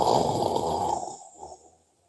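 Qigong earth healing sound: a single breathy, voiced exhale, strong at first and then trailing away within about two seconds.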